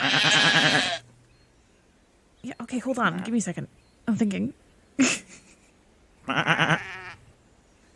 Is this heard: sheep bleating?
yes